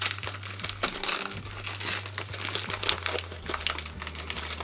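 Crinkling wrapping as a parcel from Canada holding lipstick and gloss is torn open, with dense, continuous rustling and tearing close by, alone without speech.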